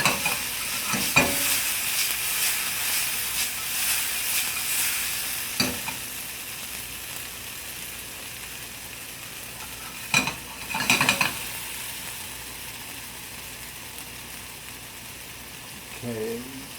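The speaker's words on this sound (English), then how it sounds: "Sauteed tomato with a blue crab marinara sauce" Tomato sautés for a blue crab marinara sauce, a continuous hiss of frying with occasional utensil clinks and stirring scrapes against the pan.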